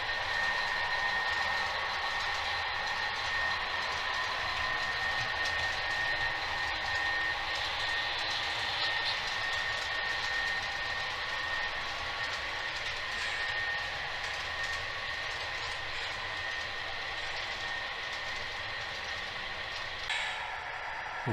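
Northbound freight train running at throttle notch 80, about 40 mph, through Shipley, Iowa: a steady continuous rumble and whine with faint rail clatter, sustained throughout.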